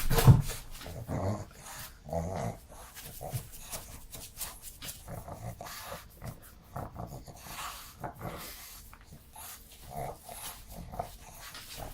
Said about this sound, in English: there is a dog coming